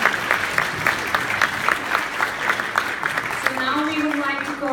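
Applause from the crowd at a hardware startup award ceremony in Osaka, rhythmic clapping and cheering, loud and close, with a voice speaking over it toward the end.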